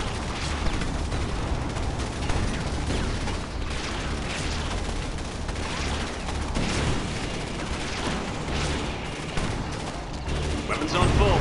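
Dense, continuous gunfire and explosions from a Command & Conquer 3: Kane's Wrath battle, loud and unbroken throughout, with clipped unit voice lines mixed into the din.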